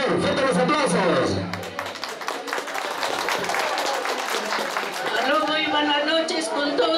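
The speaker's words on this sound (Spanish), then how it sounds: "fuerte los aplausos" A crowd at a birthday party for a 74-year-old man claps for his wife, a dense patter of applause filling the room while voices talk and call out over it throughout.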